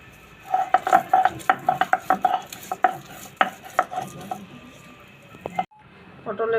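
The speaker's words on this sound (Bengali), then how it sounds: "এখন আমি পাটা এগুলা সুন্দর করে মিহি করে বেটে নেব" Pointed gourd peels are ground by hand on a stone grinding slab, giving close, rhythmic knocking and scraping strokes in quick succession that slow, then stop near the end.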